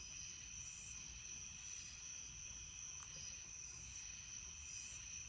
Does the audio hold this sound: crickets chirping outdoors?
yes